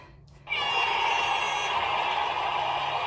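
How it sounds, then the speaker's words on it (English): A workout timer buzzer cuts in sharply after a brief quiet moment, then holds as one continuous, harsh, loud electronic drone until the end. "Ignore this buzzer in 5 seconds."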